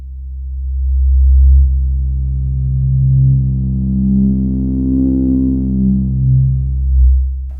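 A single low sustained note from OB-X style analog-modelled software synths, smooth and loud, its harmonics slowly sweeping up and down as the filter moves, with no voices.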